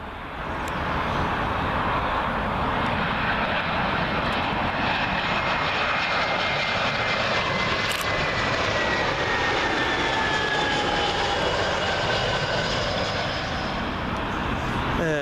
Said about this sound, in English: Arriving next, British Airways A319. This one from our friends up in Newcastle.